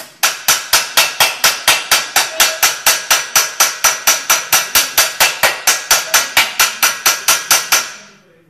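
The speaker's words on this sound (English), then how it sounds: "I have a favorite hammer for this" An old family hammer strikes hot metal at a blacksmith's anvil while a triangular roll is forged, about thirty loud, ringing blows in a fast, even rhythm, close and alone, the last ring fading out.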